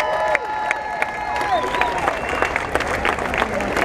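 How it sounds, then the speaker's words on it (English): Applause at a Hometown Heroes ceremony honoring a state Senate delegation, a sustained crowd clapping with some cheering, moderately loud and continuous for several seconds. "let's give one more round of applause for our state Senate delegation"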